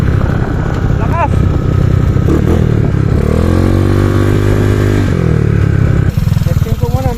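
A Yamaha Mio Soul scooter engine fitted with a 28mm Keihin flatslide carburettor revs up and down close by, loud and buzzy with clattering mechanical noise, while a voice speaks over it.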